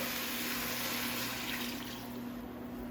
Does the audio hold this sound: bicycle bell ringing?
no